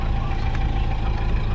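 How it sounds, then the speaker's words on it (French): Vehicle engines running, giving a steady low rumble that holds at an even level throughout, close by and with no talking over it. "Les moteurs sont en marche, les moteurs sont en marche."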